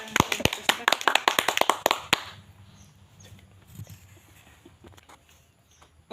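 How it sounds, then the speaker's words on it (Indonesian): Classmates in a school classroom clap for a group that just presented: a couple of seconds of crisp, distinct, closely spaced claps from a small group, which stop abruptly, leaving quiet room sound and faint voices. "Tepuk tangan buat teman kita yang sudah mempresentasikan."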